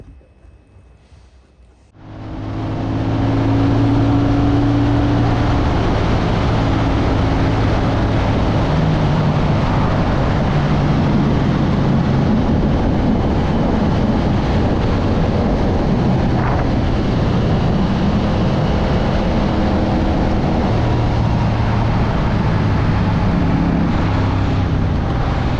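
A 2025 CFMoto CL-C 450 motorcycle rides at speed, a loud steady engine drone buried under heavy rushing wind noise that starts suddenly after a brief quiet moment and holds unbroken to the end.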